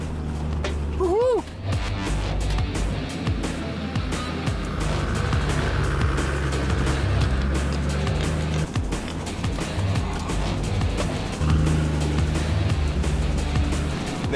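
A 4WD truck engine labors up a rutted country track near Coffs Harbour, loud and continuous with revving surges and rattling knocks, while someone shouts encouragement over it.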